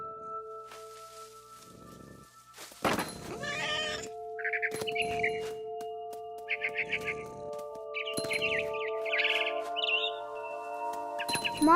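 A cat in the video game What Remains of Edith Finch gives several distinct meows and drawn-out yowls at irregular intervals, set among bird chirps and tweets and steady ambient game tones, close and fairly clear.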